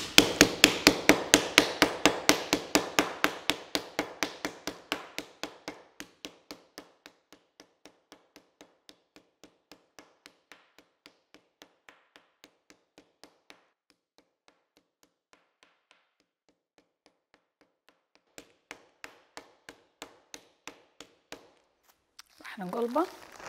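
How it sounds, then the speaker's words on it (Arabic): Rapid, regular thuds of a mallet pounding raw meat for breaded fried cutlets, slowing into sparser strikes, then a quick burst of blows near the end followed by a brief voice. "ندق اللحم."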